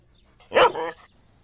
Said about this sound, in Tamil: இந்த சீன்ல நாய் இருக்கா?